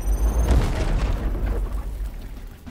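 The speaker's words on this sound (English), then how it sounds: "The holy hand grenade." A grenade detonates in the video game Warhammer 40k: Chaos Gate - Daemonhunters, a loud deep boom with a rumbling tail that fades slowly over a couple of seconds.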